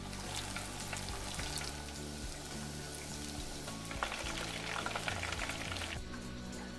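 Japanese tempura pieces deep fry in hot oil, a continuous close bubbling sizzle with bursts of sharper crackle as new batter drops in, no talking.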